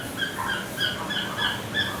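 Dogs in a cramped pet shop at a Hai Phong market in Vietnam whimper and yip in repeated high, thin cries over a dense, continuous background din, with no speech.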